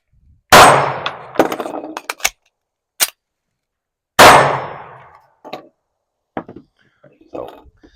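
Handgun shots ring off steel targets at an outdoor range, from a $600 handgun run in quick drills: two loud bursts with sharp metallic clangs, each followed by a string of quicker pops and pings, with short pauses between.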